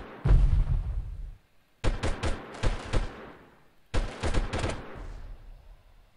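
Gunfire in the video game Delta Force, heard as a heavy close burst followed by two clusters of rapid, sharp automatic shots separated by brief pauses.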